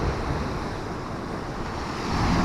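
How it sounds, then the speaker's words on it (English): Sea waves wash onto the beach below a cliff on the Holderness coast at Hilston, a steady broadband roar mixed with wind noise, loud and continuous. "Waves seem to have calmed down a little bit"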